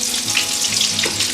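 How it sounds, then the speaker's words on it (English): Food frying in oil in a pan, a loud steady sizzle and crackle close by that carries on for the whole moment, with no talking. "flick over this without splashing myself too much with oil"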